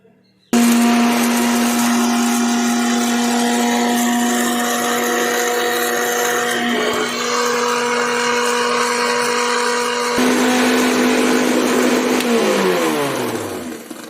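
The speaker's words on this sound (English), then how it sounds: "I have taken the grinder and I will put black peppercorns, cloves, and carom seeds that we have roasted. So I will grind them." An electric spice grinder runs steadily for about twelve seconds, whirring on roasted black peppercorns, cloves and carom seeds, then its motor winds down at the end with no speech.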